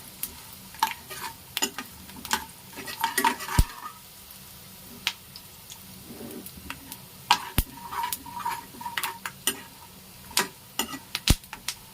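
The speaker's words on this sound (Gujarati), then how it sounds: "બધા આપણે સિંગના દાણા એડ કરી દેવાના છે। આપણે બધું સારી રીતે મિક્સ કરી લઈશું।" Peanuts roasting in a pan are stirred with a spoon, producing scattered close scrapes and sharp clicks at irregular intervals over a faint sizzle.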